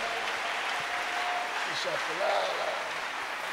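Church congregation applauding in a dense, steady wash of clapping that holds evenly throughout, with voices mixed in.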